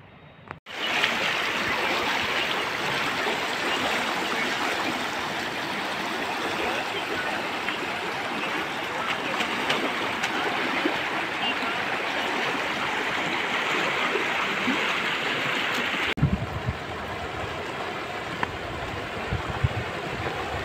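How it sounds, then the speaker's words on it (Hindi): Fast-flowing current of the Betwa river near Orchha, a steady loud rush of water running continuously throughout, with the tone changing and thinning slightly near the end. "यहाँ पे बहुत तेज धार चल रही है"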